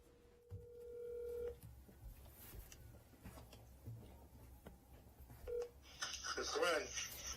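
Telephone keypad tones dialing out for a phone call, a few brief beeps with quieter dial pauses between them, followed by a ringing tone near the end, all over faint background noise.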